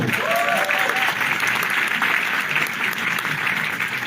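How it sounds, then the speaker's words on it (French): Audience applause fills the room, steady and dense, with no break in the clapping throughout. "Applaudissez chaleureusement Marilyn Nadeau"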